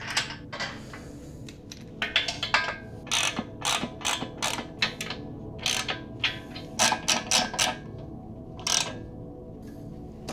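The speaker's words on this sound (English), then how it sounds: "At least my ratchet sockets fit these." Ratchet socket wrench clicking while working on bolts of a Honda Civic, close and moderately loud, with bursts of quick ratcheting clicks and a few metallic clinks spread over a quiet garage background.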